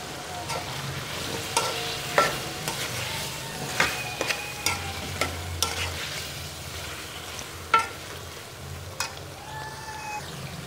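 Potatoes are stirred into a pan of roasted spiced mixture for a chicken and kachnar dish, a soft sizzle running under intermittent scraping and clattering strokes of the spoon, close up.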